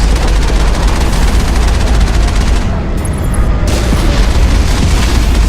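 Heavy, loud gunfire and booming explosions fill a Mass Effect battle on Therum against Geth armatures, rattling almost without a break, with one brief lull partway through before the barrage resumes.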